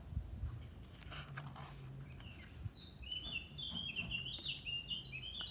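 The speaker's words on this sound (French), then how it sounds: "En fermant les yeux, tu entends mieux les oiseaux chanter." Wild birds sing in spring, faint and somewhat distant, with high chirping phrases that grow busier in the second half over a quiet outdoor background.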